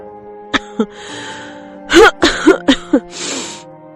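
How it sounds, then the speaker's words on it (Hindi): A few short, light coughs and throat sounds come close together in a quick cluster, with a breathy gasp before and a sigh after. "हल्की खांसी सुनाई दी"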